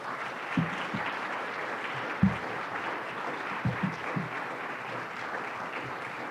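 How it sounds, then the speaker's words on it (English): Steady audience applause at a conference closing plenary, moderately distant, with a few louder claps or thumps standing out now and then. "Give another round of applause, please."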